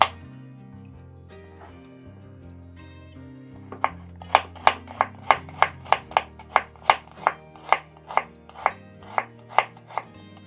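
A knife chops red onion on a board for a Greek salad, about fifteen crisp, evenly spaced close strikes that begin a few seconds in, with soft music underneath.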